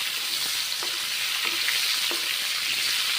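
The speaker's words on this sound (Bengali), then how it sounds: "এবারে তেল গরম হয়ে গেছে এখন ভেজে নিচ্ছি মেরে চেড়ে ভেজে নিচ্ছি মাশরুমগুলোকে" Mushrooms frying in hot oil for a vegetarian mushroom and ridge gourd curry, a dense continuous sizzle with a few soft stirring knocks spaced through it, close and steady with no talking.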